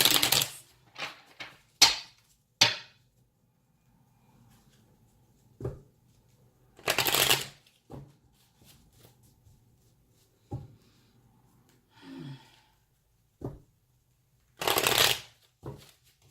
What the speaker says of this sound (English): I didn't do that, so I'm going to reshuffle.